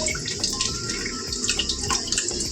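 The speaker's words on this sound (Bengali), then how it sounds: "এবার আমি বাসন কটা মেজে নেবো আগে" Dishes are scrubbed and rinsed under a running kitchen tap, a loud close stream of water with clinks and splashes throughout and no talk.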